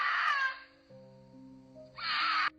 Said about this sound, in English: That was a female mountain lion.